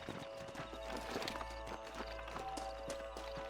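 Horses clip-clop in Red Dead Redemption, a close, steady series of hoof strikes at a walking pace with a brief whinny, over a low ambient hum.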